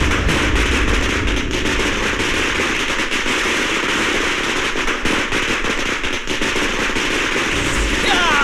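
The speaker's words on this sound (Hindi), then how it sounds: "पटाखा बाबू, मैं बात नहीं करता, मेरे पटाखे बात करते हैं।" Firecrackers burst in a rapid, dense crackling barrage during a film scene, loud and continuous for several seconds like a long string going off.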